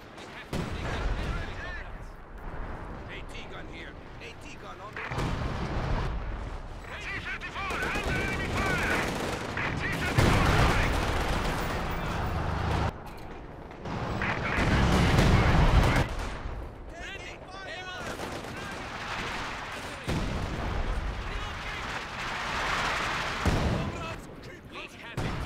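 Anti-tank gun and artillery fire in the strategy game Company of Heroes 2, with heavy booming impacts and bursts of gunfire rolling throughout under near-continuous talking by players.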